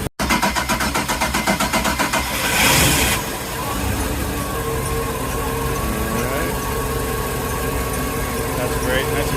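Twin new engines on a 2003 Sea Ray 320 Sundancer cabin cruiser idle in neutral with a steady low rumble and a brief rise in throttle, while people talk over it.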